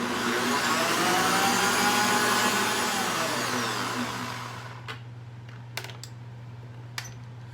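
Sweet potato pie filling churned by an electric mixer, a loud steady whirring drone that winds down and stops partway, followed by a few sharp clicks and taps against the bowl.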